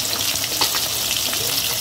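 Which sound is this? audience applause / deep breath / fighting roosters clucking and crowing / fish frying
fish frying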